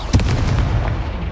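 A Confringo spell blast in the video game Hogwarts Legacy booms once, sharp and loud, then fades into a rumbling tail.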